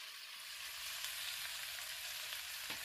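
Cabbage and bacon frying in a pan give a steady, bright sizzle throughout, alone with no voices and moderately close, as the food is gently tossed and stirred.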